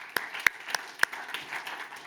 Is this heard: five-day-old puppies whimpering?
no